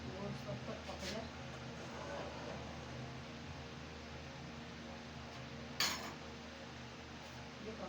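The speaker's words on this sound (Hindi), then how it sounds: "ये 2-3 बर्तन में धोलूँगी, वो सब तक पक जाए।" Pots, dishes and utensils are washed in a home kitchen, metal and crockery clinking sporadically and fairly faintly over a steady running-water hiss, with one sharper clank near the end.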